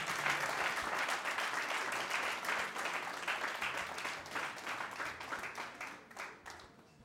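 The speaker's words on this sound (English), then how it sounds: "kindly assist me in giving a humongous round of applause to Pastor Mrs. Iwalola Olabi" A church celebration audience gives a big round of applause for a pastor, dense continuous clapping that stays full and steady for several seconds before thinning slightly near the end.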